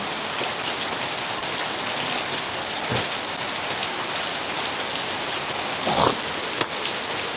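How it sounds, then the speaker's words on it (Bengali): Heavy rain pours steadily and densely onto waterlogged surroundings, a continuous loud hiss with a few brief louder knocks and splashes. "প্রচন্ড বৃষ্টি, চারিদিকে পানি আর পানি"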